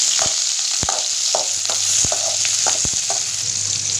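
Small tomatoes and curry leaves sizzle in a kadai, with a steady frying hiss throughout. A spoon stirs the pan with several sharp clacks at irregular intervals.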